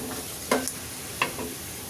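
Ginger garlic paste being stir-fried with bottle gourd and chicken in a pan, with two distinct spatula scrapes and clinks over a steady low sizzle, no talking.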